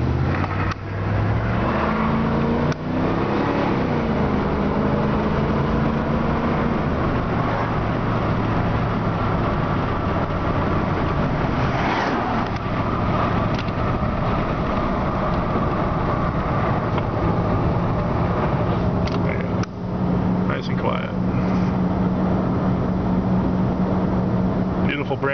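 A 2003 Dodge Dakota four-door V8 pickup with 164,000 miles on the road, its engine droning steadily with shifting pitch and road noise from inside the cab, while a person talks over it.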